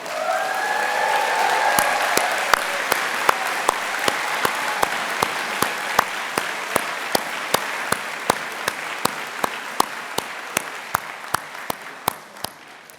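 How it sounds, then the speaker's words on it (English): A crowd applauds at the UC Berkeley Haas MBA for Executives Class of 2023 commencement ceremony, with sustained, full clapping that slowly fades, punctuated by sharp, evenly spaced clicks throughout. "So let's give them all another big round of applause."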